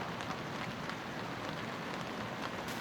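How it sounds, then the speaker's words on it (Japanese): Heavy rain drums on the outside of a camping tent at a campsite in Kanagawa, a close, continuous patter and splash with no let-up and no talking. "また表が、バシャバシャと、すごい雨音です。"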